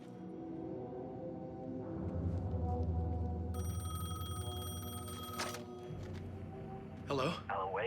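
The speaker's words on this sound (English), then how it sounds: "phone was ringing." An in-game telephone ringing in Alan Wake 2, a bright repeating bell tone that comes in partway through over a dark ambient rumble, with voices around it.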